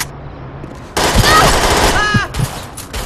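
Automatic gunfire in the shooter game Perfect Dark Zero, loud rapid bursts that break in suddenly after a quiet start and rattle on for about two seconds, with scattered game voices and effects around them.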